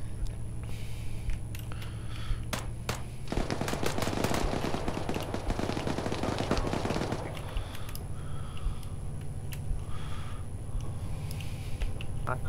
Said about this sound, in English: That would be getting shot at.